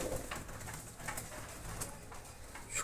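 Soft, low cooing of racing pigeons repeats gently in the background, fairly quiet, with no talking.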